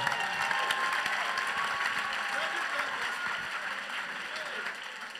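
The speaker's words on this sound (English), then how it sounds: "Give him a mighty clap offering." A church congregation gives a clap offering, moderately loud applause that slowly fades over several seconds, with scattered voices and a few cheers mixed in.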